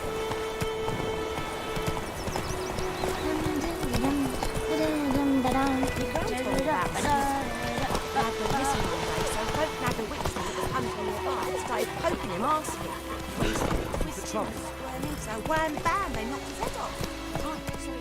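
Roach the horse galloping in The Witcher game, with hooves clip-clopping steadily beneath almost continuous spoken dialogue and background music.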